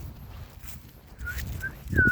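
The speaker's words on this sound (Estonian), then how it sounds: "Tubli koer. Hästi tubli koer." A dog outdoors gives a few soft, high whimpers in quick succession near the end, faint over quiet background rustle.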